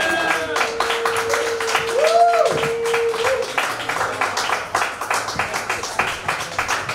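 A comedy club audience in Richmond, Virginia applauds and cheers for the night's comedians, steady clapping running the whole way under a host's speech, with a whoop rising midway.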